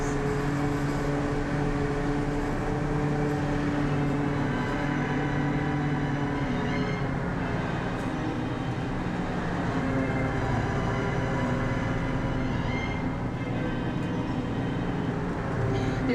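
A studio backlot tour tram rolls steadily along, a continuous rumbling drone of motor and wheels with a faint voice in the background.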